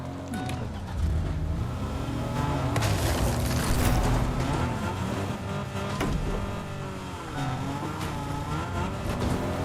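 A frozen car in the Fortnite video game drives and slides on its icy wheels, its engine droning steadily with shifting pitch and occasional thumps, loud and continuous.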